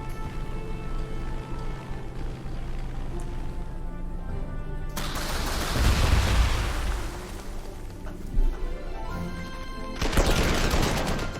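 Artillery shells explode in the strategy war game Panzer Corps 2, set on the 1941 Moscow front. Heavy booms rumble in two bursts around the middle and end, over a steady bed of game music and battle noise, with no talking.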